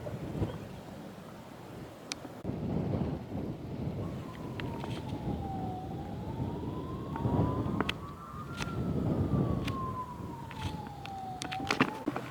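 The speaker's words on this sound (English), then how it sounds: "you can hear the sirens going" Distant emergency sirens in a nearby rural Portuguese town during a wildfire evacuation wail and rise and fall faintly over steady outdoor wind and background rumble.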